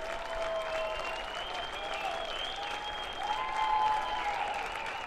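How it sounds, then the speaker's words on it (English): Fans of Grayslake Central clap and cheer at a high school Class 3A semifinal baseball game, a sustained crowd of applause from the stands that swells slightly toward the end, heard from some distance. "Nice round of applause."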